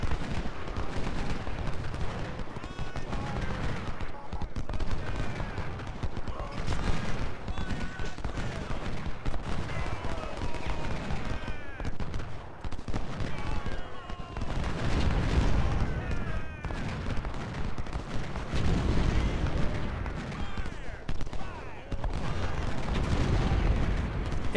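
Artillery fire in the Civil War strategy game Ultimate General, rolling volleys of cannon booms and crackling musketry that keep up densely throughout at a loud, constant level, with a voice talking underneath.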